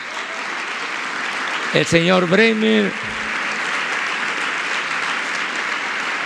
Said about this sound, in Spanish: un aplauso a